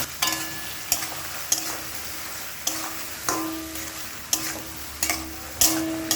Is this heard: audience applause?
no